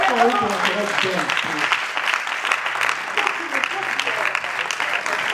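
Congregation at a church celebration service applauding and cheering, a dense, steady wash of clapping with voices and singing mixed in throughout.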